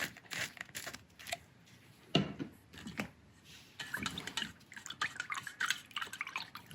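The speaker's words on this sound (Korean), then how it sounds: "이렇게 한두 방울 살균제를 물에 푸신 다음에요" Drops of disinfectant fall into a container of water, mixed for cleaning mold off terracotta pots: a quiet run of small irregular drips and light splashes, with a slightly louder plink partway through and no voices.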